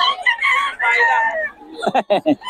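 A young gamecock crows nearby in a loud, drawn-out call, followed by a few short, sharp bursts of crowing or clucking, with no talk over it.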